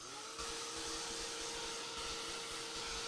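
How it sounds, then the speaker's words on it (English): A heat gun blows hot air over paint on a mixed-media art piece, a steady close whirring hum with a constant tone, running alone without talk. "Let's hit this with a heat gun just a little bit,"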